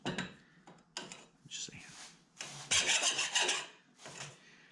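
A hand file fitted with a golf-ball handle rasps in short close strokes while fixing an enclosed trailer. The grating scrapes come in uneven bursts, with a longer louder run near the end.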